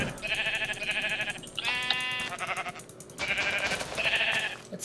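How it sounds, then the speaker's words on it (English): Sheep in the Minecraft video game bleat repeatedly in short, nasal, wavering calls, several bursts in quick succession with brief gaps, clear and close over faint background noise. "Do you want me to kill another sheep for you?"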